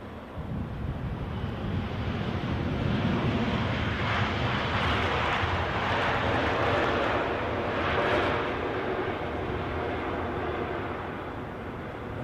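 A Eurowings airliner arriving at an airport, heard as a broad, steady jet roar, partly masked by wind buffeting on the microphone, swelling and fading slightly over about twelve seconds.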